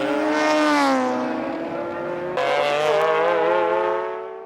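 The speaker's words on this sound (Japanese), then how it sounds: "ゴールを目指すロックタイトの目の前で300クラスのマシンがスピン" A GT300-class race car spinning on track on the final lap of a 2000 JGTC race: a loud, close engine whine whose pitch slides downward, jumps abruptly, then wavers and fades at the end.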